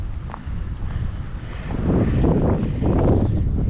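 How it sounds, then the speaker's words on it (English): Wind gusting around a parked Wildwood Heritage Glen 312QBUD travel trailer with its awning extended, a steady close buffeting rumble on the microphone that swells louder in the second half. "You probably hear the wind."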